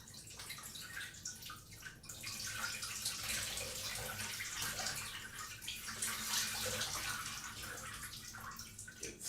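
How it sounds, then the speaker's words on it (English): Cold water runs steadily from a tap through a filter, a continuous hissing splash at moderate volume, close by and without talking. "Cold water on."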